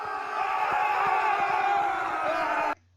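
A group of men cheer, whoop and shout together in a dense, loud burst of crowd noise lasting a few seconds before cutting off abruptly.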